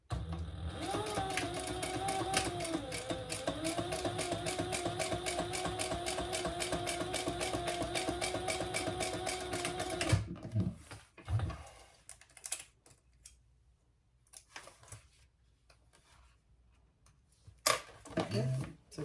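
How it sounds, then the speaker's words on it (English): A sewing machine runs steadily at close range for about ten seconds while top stitching a bag's bottom gusset, then stops, leaving only scattered handling clicks and a brief burst of stitching near the end. "we're going to top stitch on the bottom gusset with the seam going down"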